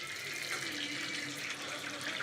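Tap water runs in a home in Mumbai, India, a continuous hissing splash from the faucet that stays steady and fairly close, with no voices over it.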